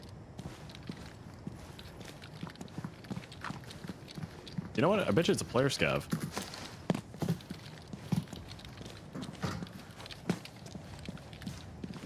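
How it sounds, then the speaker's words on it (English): Footsteps sound in the mobile shooter Arena Breakout, a faint series of soft thuds with a louder burst in the middle, heard under ongoing talk. "I hear footsteps."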